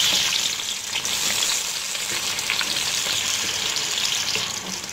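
Onions frying in oil in a pan while cooking an Eid biryani, a steady, dense sizzle that crackles continuously and stays loud and close throughout with no voices.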